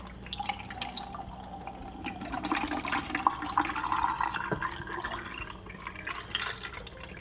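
Film fixer pouring into a photographic developing tank, a steady close gurgling trickle of liquid that runs for several seconds with no talk.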